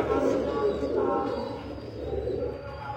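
Pigeons cooing softly in a loft setup, low rolling coos close by, heard beneath someone talking throughout.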